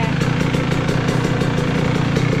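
A motorcycle with a badly damaged handlebar, freshly refilled with oil, idles steadily and close up in a continuous, even mid-pitched rumble with no voices.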